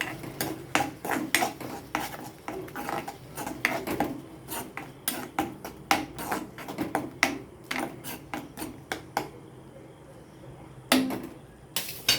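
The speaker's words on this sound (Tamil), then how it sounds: "தக்காளி சேர்த்து நல்லா மிக்ஸ் பண்ணுவாங்க." A spoon stirring and scraping chopped tomatoes into onion paste in a cooking pan, a series of irregular metallic clinks and scrapes, close and fairly loud, with a pause near the end.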